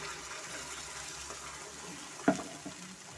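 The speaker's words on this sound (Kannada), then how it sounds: "ಸ್ವಲ್ಪ ನೀರು ಸೇರಿಸ್ತಾ ಇದ್ದೀನಿ" Water pours steadily into a pot of mutton kheema ball curry with a soft, continuous gush, and a brief clunk near the end.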